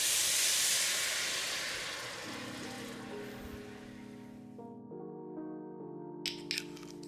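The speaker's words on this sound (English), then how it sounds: "it is half a cup of white wine to our pan" White wine poured into a hot pan sizzles with a loud broad hiss that fades gradually over several seconds, leaving a faint tonal hum and a few small clicks at the end.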